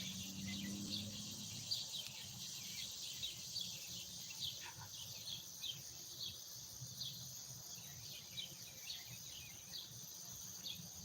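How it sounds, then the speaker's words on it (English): Birds and cicadas sing steadily at sunset, a dense high insect drone running throughout with scattered faint bird chirps over it, soft and distant. "can everyone hear the birds and the cicadas that are singing?"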